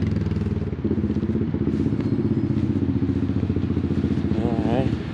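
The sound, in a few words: loud four-wheeler ATV engine passing nearby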